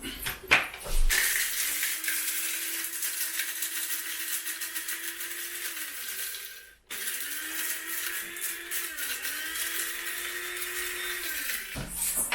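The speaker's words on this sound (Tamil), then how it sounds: "இதுதான் என்னோட சின்ன கிரைண்டர் மிக்ஸா அதில் நான் பொடி பண்ண போகிறேன்" A small mixer grinder whirs steadily while powdering cardamom, with a rising hum that runs for several seconds, drops out briefly, then restarts in short surging bursts before stopping.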